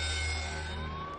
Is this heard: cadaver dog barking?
no